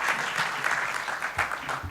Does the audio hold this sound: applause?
yes